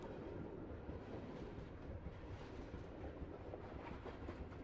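A train rolls steadily through mountains in a video game, a continuous low rumble with faint rhythmic clatter, fairly quiet and alone.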